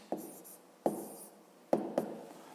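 A hand writes numbers on paper while working a maths division problem: four quiet, separate pen strokes, each a short scratch, spaced irregularly with near-silence between.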